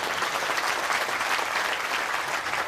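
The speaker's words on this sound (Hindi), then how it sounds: "तो इसके लिए तालियां जोर से बजा दो।" Steady applause from an audience at a Hindu sermon in an ashram, a dense continuous patter of many hands clapping with no break, loud and close throughout.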